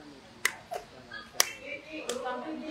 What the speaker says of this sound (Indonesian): kemudian Ibu tepuk sendiri